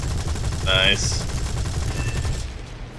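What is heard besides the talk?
aircraft cannons firing, video game War Thunder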